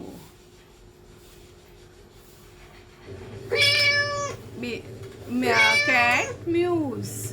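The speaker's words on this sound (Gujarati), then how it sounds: "cat muse" A cat meows several times, close and fairly loud, in short bursts over a quiet steady hum, with a faint rustle before the calls begin.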